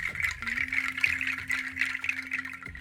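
A wooden rain stick made of manglid wood, filled with natural pangi seeds, gives a steady, close cascading rattle of pattering seeds, continuous with slight surges, alone with a faint low hum underneath.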